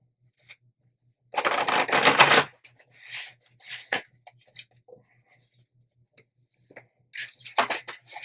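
Tarot cards being shuffled by hand close up, one dense riffling burst followed by scattered soft taps and card slides, with quiet gaps and a couple more brisk shuffles near the end.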